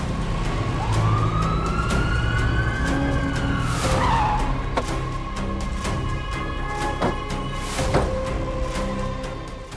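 A police car skids to a stop on Aarey Road amid a wailing siren, a long tire screech sweeping up then falling, followed by sharp thuds and continued engine noise, loud and close.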